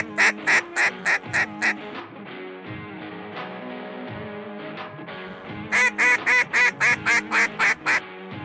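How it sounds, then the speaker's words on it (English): A duck call blown during an Arkansas duck hunt gives two bursts of rapid, loud quacking notes, about six short pulses each, separated by a sustained droning tone, with faint talk beneath. "it's a great opportunity to take the time to learn how to duck call, teach someone how to duck call"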